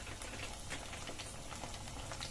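Paneer 65 frying in hot oil, giving a steady, faint bubbling sizzle with crackling pops throughout, heard alone without talk.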